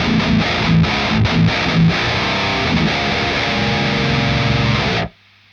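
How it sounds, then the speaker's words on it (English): Peavey Invective MH guitar amp with the boost engaged plays a loud, heavily distorted riff with a broad hiss underneath, then cuts off abruptly, leaving only a faint low hum. "you can hear there's quite a bit of hiss"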